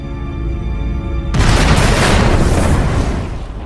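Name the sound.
supernova star explosion sound effect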